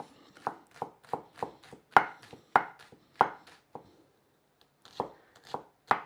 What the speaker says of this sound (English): I'm just dicing a shallot